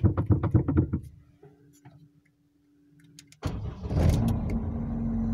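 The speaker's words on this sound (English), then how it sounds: "So let's try to start the engine." An Opel Corsa B engine is cranked after immobilizer programming: a loud rhythmic whirring of the starter, a quiet pause with faint clicks, then the engine catches and settles into a steady idle.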